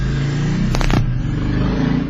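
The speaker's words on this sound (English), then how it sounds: "Loud motorbike." A loud motorbike roars past on a street, a dense, rumbling engine noise that fills the whole stretch, with a brief rattling burst in the middle.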